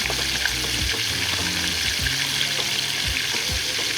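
Green chicken fries in a pan with a constant loud sizzle, with a few soft scraping and stirring knocks underneath and no voices.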